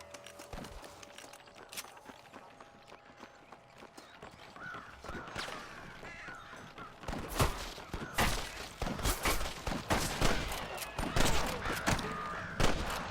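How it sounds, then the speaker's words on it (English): Gunfire from a Western shootout in the video game Red Dead Redemption, with sharp shots scattered through the scene and growing denser and louder in the second half, along with horse hoofbeats and other game sounds. "I can hear more gunshots."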